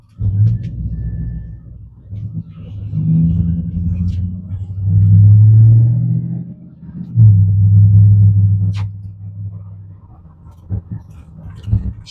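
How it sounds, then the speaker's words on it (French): A GMC Sierra truck engine idles and revs with a steady low rumble, swelling louder in two broad surges before settling back, recorded close on a modest microphone. "Je sais pas si avec ce micro tu pourras profiter du son de la voiture."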